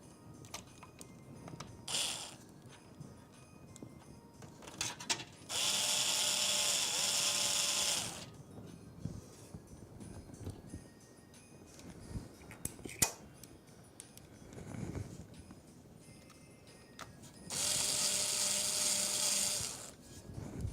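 A small power tool tightens spring-loaded screws on an all-in-one liquid cooler pump during a PC build, giving two whirring bursts of about two to three seconds each, with quiet handling clicks and rustles in between.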